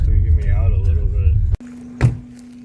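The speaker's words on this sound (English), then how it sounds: "I feel like I need to shut my car off." A car engine idles and rumbles steadily on a dark, empty night road, loud and close, under a person talking, cutting out briefly before a lower hum with a brief knock.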